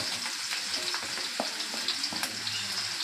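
Okra and green chillies fry in a pan with a continuous crackling sizzle, broken by soft scrapes and knocks as the vegetables are stirred, close up and with no talking.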